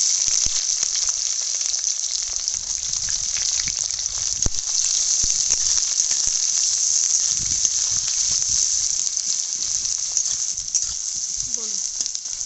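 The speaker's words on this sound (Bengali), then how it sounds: "আমি পেঁয়াজটা আধ ভাজা করে নিই" Onions sizzle and fry in a pan with black cumin seeds (kalo jeera), a steady loud hiss throughout with occasional scraping stirs, close up and without talk.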